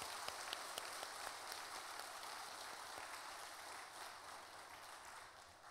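A church congregation at a Korean worship service gives a round of applause, a dense, even patter of clapping sustained for several seconds at moderate distance, with no speech over it.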